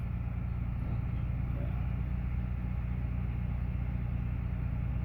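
A Kalmar stacker engine holds at about half revs during clutch calibration, a steady low rumbling drone throughout, with no change in pitch.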